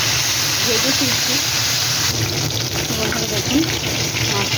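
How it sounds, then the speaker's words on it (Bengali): Tilapia rubbed with salt and turmeric fries in a wok, making a loud, continuous hissing roar that stays dense and unbroken throughout, with some extra crackle in the second half. "এবার আমি মাছটা ভেজে নেব"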